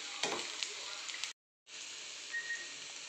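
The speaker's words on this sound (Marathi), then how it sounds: "छान फ्राय होतं आहे आपलं" Ginger-garlic paste fries for paneer chilli with a soft, steady sizzle in a pan, briefly cut to silence halfway, then resuming with a light stir.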